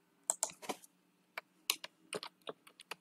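Someone types on a computer keyboard to rename a test, producing close, clicky keystrokes in short bursts with brief pauses between them.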